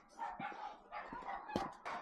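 Dogs bark in short repeated bursts, several sharp yelps spread across two seconds at moderate distance, with no talk over them.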